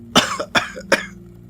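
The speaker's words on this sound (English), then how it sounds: "She wheezed and gagged and hacked and gasped." Three harsh, hacking coughs come in quick succession, close and loud, each followed by a short raspy breath.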